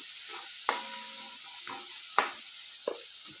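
Onion, tomato and chili frying in a pan, a steady hiss of sizzling oil broken by a few distinct scraping strokes of a spatula stirring, close up with no talking.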